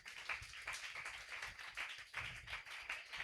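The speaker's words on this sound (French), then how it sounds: "Est-ce qu'on peut encore acclamer pour le Seigneur?" Church congregation clapping in rhythmic, steady rounds of applause that stay moderately loud and close throughout, with no voices over it.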